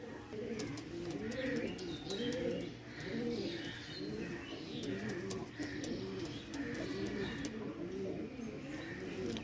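Punjabi carrier pigeons coo in low, rolling repeated phrases close by, several birds overlapping in a steady rhythm with a few faint chirps above.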